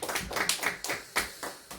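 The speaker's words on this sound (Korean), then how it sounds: "우리 이 좋은 은혜를 주신 우리 하나님께 감사의 박수를 한번 드릴까요?" Church congregation clapping in thanks to God during a Sunday worship service, a short burst of hand claps with several sharp accented strikes, close and fairly loud, no talk over it.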